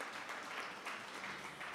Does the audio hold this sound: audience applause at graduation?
yes